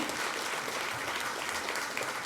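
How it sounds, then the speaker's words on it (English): Crowd applause at an awards ceremony, a dense, even wash of many hands clapping at moderate distance, sustained without a break and free of talk. "How about a nice round of applause, everybody?"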